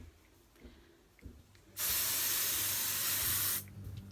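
A single sustained burst of hair spray, loud and close, hissing steadily for about two seconds before cutting off, with quiet room noise around it.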